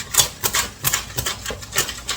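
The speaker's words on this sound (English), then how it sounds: "I'm going to give that a good whisk" A chocolate cherry cobbler mixture is whisked in a bowl, giving quick, rhythmic clicking taps of the whisk against the bowl, about eight strokes, close up and with no voices.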